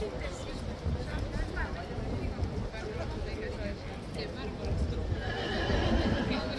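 Horses of the King's Guard clip-clop on pavement in a busy outdoor ceremonial setting, hoof steps mixed with crowd murmur and talking, a little fuller toward the end.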